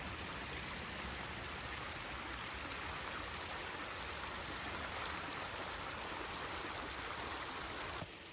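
Creek water flowing steadily at a trail crossing in Todd Nature Reserve, a close, continuous broadband rush with no voices, lasting the whole stretch before dropping slightly at the end.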